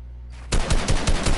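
Rapid video game gunfire starts suddenly after a quiet moment, a loud burst of evenly spaced shots close up.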